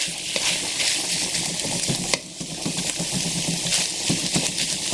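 Spoon scraping and breaking up tuna chunks in a pan over medium heat, with continuous sizzling and frying under repeated short scraping strokes, close and fairly loud.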